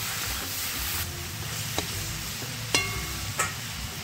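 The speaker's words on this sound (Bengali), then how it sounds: "ওই তেলের মধ্যেই চিকেন স্কিন দিয়ে হালকা ভেজে নেব।" Chicken skin frying lightly in a small amount of leftover oil in a pan, a steady soft sizzle throughout, broken by a few sharp pops and clinks.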